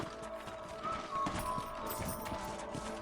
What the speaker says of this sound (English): Let's get back on the horses and see what else is going on.